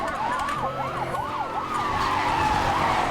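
A Mercedes-Benz SLR McLaren in Need for Speed: Hot Pursuit (2010) skids under a steady engine roar while a wailing police siren sweeps up and down close by.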